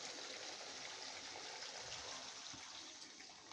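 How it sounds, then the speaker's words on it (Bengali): Warm water pouring into cooked masala for a fish curry, a soft steady splashing stream heard faintly and close throughout. "এবার আমি এতে দিয়ে দেব হালকা গরম জল"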